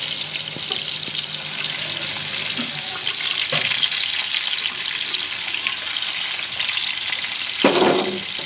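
Chapli kebab of minced meat frying in oil on a griddle, giving a steady bright sizzle throughout with a few faint knocks and scrapes, no talk.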